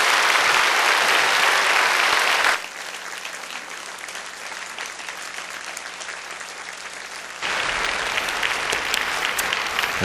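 A church congregation applauds to welcome a missionary preacher, a dense, steady clapping that drops to a softer level midway and then swells louder again near the end.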